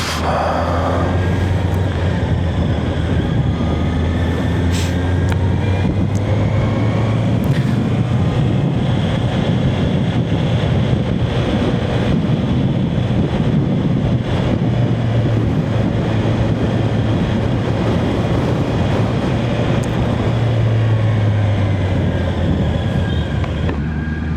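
Honda CBR650R four-cylinder sport motorcycle riding at speed, a steady loud engine drone with heavy wind buffeting filling the whole stretch, no voices.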